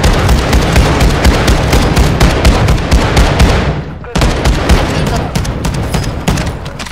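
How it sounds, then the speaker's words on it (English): Shotgun and other gunfire in a shooter video game, a loud, rapid stream of overlapping shots and booms that cuts out for an instant near the middle and then resumes just as dense. "Ayan yung shotgun ko."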